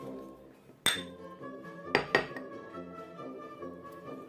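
Metal spoon clinking against a bowl while minced garlic is mixed in, three sharp clinks standing out over a quieter scraping, close and clear.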